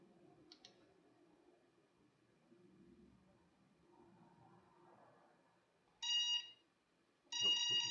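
After near silence with faint handling noise, two loud electronic tone sequences ring out from the ESC of an Eachine 250 quadcopter, the second longer, like beeping confirmation signals.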